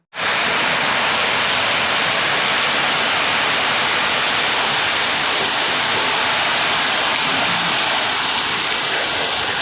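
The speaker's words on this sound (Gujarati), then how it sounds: "બહુ વરસાદ પડે છે" Heavy rain pours down in a steady, dense hiss that starts abruptly and holds unchanged throughout, loud and close, with no voices.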